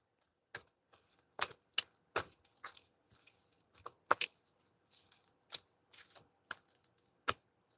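Tarot cards being shuffled in a series of sharp, riffling bursts spaced irregularly across the stretch, close and fairly crisp, with no talking.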